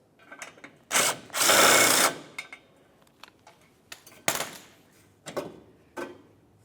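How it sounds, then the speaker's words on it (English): A power tool removing a front bumper mounting bolt on a 2006-2011 Honda Civic, with two loud, close bursts of whirring mixed with clicks and rattles of handled parts. "let's make our way back over to the other side and remove that final mounting bolt"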